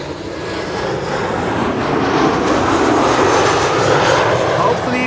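A Transavia jet airliner in retro livery thunders loudly at Amsterdam Schiphol, its engines giving a steady, broad, close roar that holds for several seconds.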